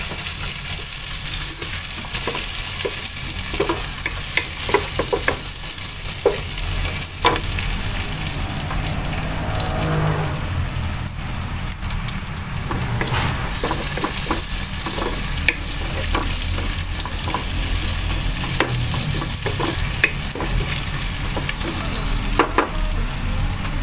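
Bottle gourd and sardines sauté in a pan, a loud, steady sizzle that fills the whole stretch, with frequent clinks and scrapes of stirring layered over the constant frying hiss.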